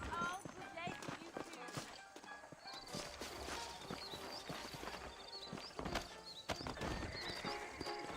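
Saddled horses clip-clop and whinny in the Red Dead Redemption game, hooves striking in an uneven walking rhythm with several neighs rising above them, while people talk faintly beneath.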